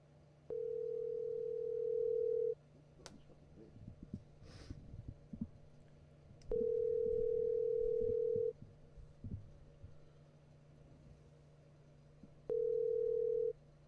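Steady telephone dial tone from a call being placed, sounding in three long flat bursts of about two seconds each, separated by gaps, with a low hum and faint handling noises underneath.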